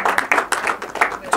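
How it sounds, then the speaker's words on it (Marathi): An audience claps at a film music launch event, a short burst of brisk, fairly loud hand claps with uneven rhythm, as if from a small group nearby. "जोरदार टाळ्या वाजवल्या"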